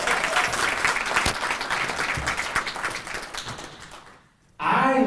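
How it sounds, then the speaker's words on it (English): An audience at an opening session breaks into a round of applause, dense clapping that gradually fades to near silence before a loud voice suddenly cuts in at the end. "Let's give him a round of applause as he goes to the seat."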